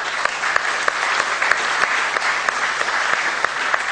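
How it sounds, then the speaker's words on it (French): Audience applause at the opening of the Fibonacci Laboratory, greeting the new laboratory director: steady, dense clapping from a crowd, sustained throughout with a few sharper individual claps standing out. "E vi prego di applaudire con me per ringraziarlo."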